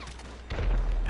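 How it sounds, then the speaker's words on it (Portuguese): Automatic gunfire in GTA V Online at Fort Zancudo, a dense burst of rapid shots and thuds that swells into a loud rumbling barrage in the second half. "você tá atirando em cima do cara e o cara metralhando você"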